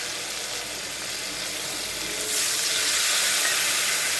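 Ginger, chili and cumin paste fries in oil for a vegetarian jackfruit curry, giving a steady hissing sizzle that swells louder about halfway through and holds there, with no voices.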